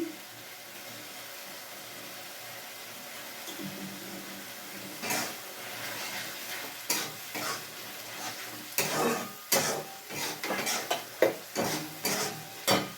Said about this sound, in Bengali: মশলাটা কষানো হয়ে গেছে তেলও ছেড়ে দিয়েছে তো এর মধ্যে আমি এই যে চর্বিটা দিয়ে দিচ্ছি